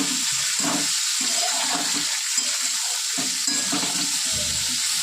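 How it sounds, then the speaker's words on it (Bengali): Fish frying in a pan, a continuous bright sizzle of hot oil with intermittent lower bubbling and stirring noises, close and steady without talk. "দারুণ সাইজ মাছের। এটা সুন্দর করে ভেজে নেবো।"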